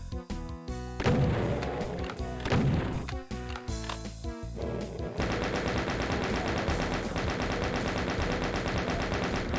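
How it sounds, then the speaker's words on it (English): Chaingunner machine gun fire from Final DOOM: The Plutonia Experiment, rapid repeated bursts of shots mixed with game explosions and music, loud and dense throughout, settling into a steady hammering stream in the second half. "I hear more chain gunners"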